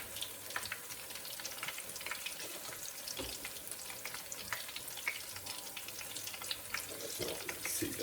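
Onion bhaji batter frying in hot oil, a steady broadband sizzle with crackles and spits running continuously throughout, close by and moderately loud, no talking.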